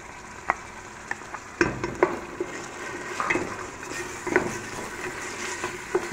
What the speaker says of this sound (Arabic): غندير دابا مطيشه الحك تقلى مع البصله مزيان